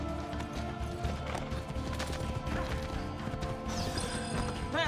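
Horse hooves clop in a steady galloping rhythm during a side mission in the video game Assassin's Creed II, set in Forlì. Game music and clatter play alongside at a moderate, even level.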